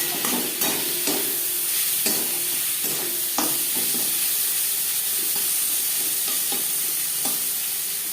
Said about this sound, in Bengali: টমেটো নাড়াচাড়া করব।